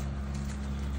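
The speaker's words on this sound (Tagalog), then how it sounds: "Ayun yung kabayo." Brief stretch of horse hooves clip-clopping, steady and fairly close, with a low droning hum underneath.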